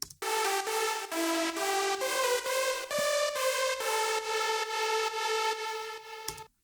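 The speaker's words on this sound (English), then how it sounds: "the first one sounds like this" A bright synth lead plays a steady melody of evenly spaced notes, loud and alone, with a buzzy, harmonically rich tone that rings out at the end.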